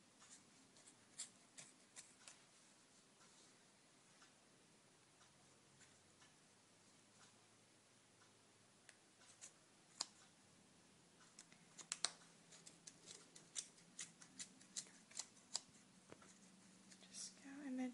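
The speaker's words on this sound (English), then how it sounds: "And you want to cut all the way around." Scissors snipping around a bundle of crochet yarn for a pompon, a string of faint, quick clicks and snips that speed up toward the end, close to the mic and under low background hiss.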